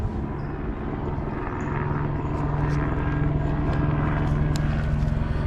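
A police helicopter passes overhead during a hot pursuit, its steady low rotor and engine drone holding at moderate loudness and swelling slightly as it nears, with faint background noise.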